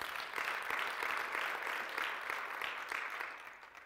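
A church congregation at a fasting and prayer service claps in rhythmic, pulsing bursts, moderately distant and fairly quiet, sustained throughout.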